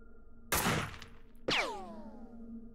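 Two sharp gunshots in the OpenXcom strategy game, the first a dense burst and the second a loud crack that rings out with a fading metallic tail, both over a steady low game hum with no talk.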